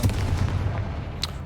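Confringo spell in Hogwarts Legacy set off as a single booming blast over a steady low rumble, with a bright sharp crack flaring near the end of the short burst.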